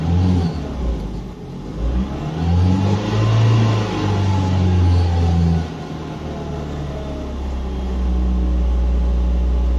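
Car engine held at around 1700 rpm during an OBD2 scanner test, a steady low droning hum with slight swells in pitch, loud and close with no talking.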